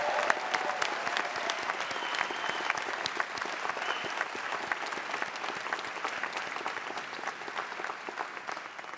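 A large audience at a white coat ceremony applauds steadily, dense continuous clapping that holds at a strong level throughout with no talk over it.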